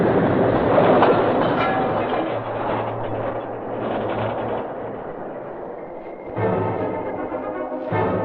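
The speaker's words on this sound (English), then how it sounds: "The train's coming." Train rumbling steadily along the tracks as a radio drama sound effect, a loud continuous clatter of railroad cars with a rhythmic clickety-clack, swelling again near the end, with no voices over it.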